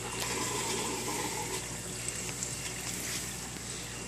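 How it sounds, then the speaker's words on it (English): New salt water gushes through opened ball valves into a 150-gallon custom reef tank, a steady close rushing flow with light splashing and no voices. "open up some ball valves and throw in brand new salt water."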